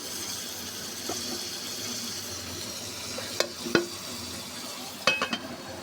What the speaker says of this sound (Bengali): বেগুন একটু কষিয়ে নিই